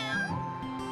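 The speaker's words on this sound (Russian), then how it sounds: "А это... Это очаровательные котята Тити" A kitten in a children's cartoon gives one short, close, high-pitched meow that slides upward and then trails off.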